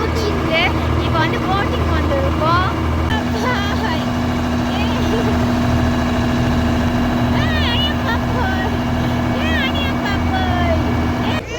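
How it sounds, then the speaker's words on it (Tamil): A boat engine drones steadily as the boat sets off on a trip in Munnar, a loud continuous rumble with a sustained whine, under nearly constant talk and chatter from passengers. "நம்மளுடைய போட் வந்து இப்போ தான் கிளம்பிருக்கு."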